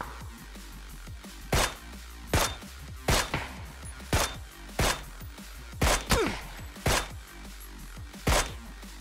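Gunshots in the PUBG video game ring out as a steady series of about a dozen sharp, loud single cracks spaced under a second apart, with no voices present.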